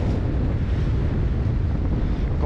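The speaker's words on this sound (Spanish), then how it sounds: "está ventoso" Strong wind roars and buffets the microphone continuously on a fishing jetty at Isla Paulino, a low rumbling gusty blast with no voices.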